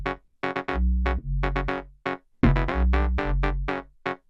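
Afro house groove in the Juno style: a punchy, rhythmic synth bass line layered with a bright perfect-fifth synth lead, short stabbed notes in a syncopated pattern with brief silences between phrases.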